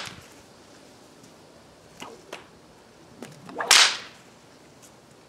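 An Indiana Jones style bullwhip cracks outdoors: a few light snaps, then one loud, sharp crack near the end, close by with no talking.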